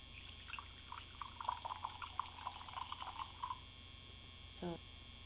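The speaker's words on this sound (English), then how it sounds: "I will pour this energy drink in a cup." An energy drink is poured into a cup in a short run of light trickling splashes over a steady mains hum, followed by a brief louder gurgle near the end, with no speech.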